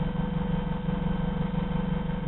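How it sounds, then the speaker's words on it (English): Boat outboard engine idling in neutral while trolling for fish at Crawling Valley, a steady low rumbling drone with even vibration throughout, close and continuous with no talk. "the engine's in neutral"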